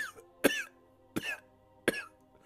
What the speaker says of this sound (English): He starts to kind of cough.